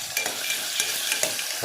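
Onion and potato frying in a pan for pulao, a steady close sizzle with a few soft stirring scrapes and taps throughout, no voices.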